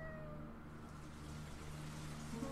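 Video game kitten meows in Ghost Towns: The Cats of Ulthar. The tonal mewing rises and falls softly over a faint, steady ambient hum.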